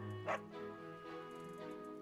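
A cartoonish dog barks and yips briefly in a Fire Emblem video game, set over a steady layer of soft game music with chiming tones.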